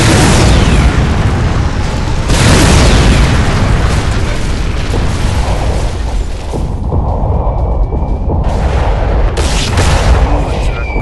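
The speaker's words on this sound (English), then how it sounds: "Target acquired, commencing barrage." Mortar barrage explosions in the video game Rise of the Reds boom heavily and continuously, loud rumbling blasts overlapping into a dense roar, with brief game voice lines amid the noise.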